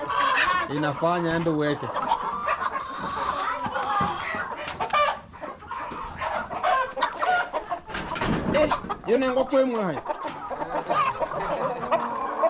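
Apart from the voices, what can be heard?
chicken clucking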